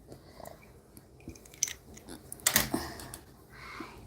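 Scissors snip through crochet yarn at a work table, a couple of short crisp cuts amid small handling clicks and rustles.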